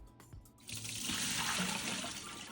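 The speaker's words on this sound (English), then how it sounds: "Swooshing these around with your hand will help all the dirt and debris come off." Produce being swished by hand in a bowl of water, a steady sloshing wash of water that swells after a moment and continues evenly, with no speech.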